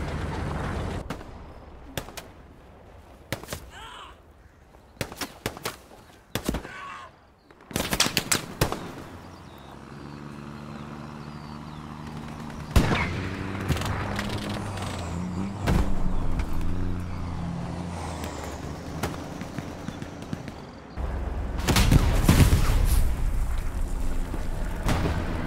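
Rapid rifle and machine-gun bursts crack in the World War II shooter Hell Let Loose, with scattered shots early, then a steady engine rumble, and a loud, close volley near the end.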